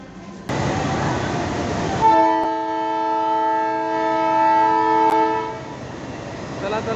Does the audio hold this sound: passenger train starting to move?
yes